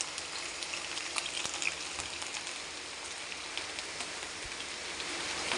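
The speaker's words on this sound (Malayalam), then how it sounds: "ഇവിടെ നല്ല മഴയാണ്" Heavy rain pouring steadily outdoors in Kerala, a dense even hiss of drops at constant volume with no speech.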